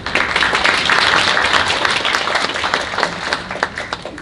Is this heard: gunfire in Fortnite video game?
no